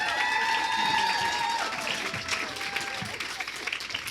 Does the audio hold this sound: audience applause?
yes